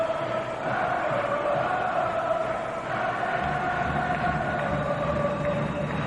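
Swiss supporters cheering at a 1991 Spengler Cup ice hockey final between CSKA and Lugano, celebrating a late consolation goal; a steady, loud crowd roar with horns or whistles fills the arena throughout.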